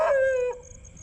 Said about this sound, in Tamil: ஊழ விட்ட நாயை நாங்கள் கண்டுபிடிச்சிட்டோம்.